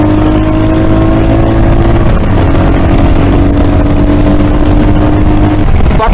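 Royal Enfield Hunter 350 motorcycle running steadily with a continuous low engine drone and exhaust hum, close and loud throughout, with no talk.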